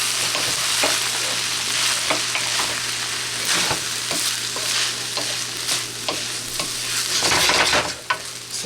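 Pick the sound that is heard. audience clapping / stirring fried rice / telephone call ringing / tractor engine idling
stirring fried rice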